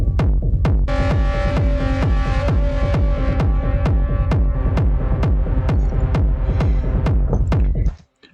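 Techno synth lines layered over a steady, punchy kick drum, looping loudly and evenly for about eight seconds before cutting off abruptly at the end.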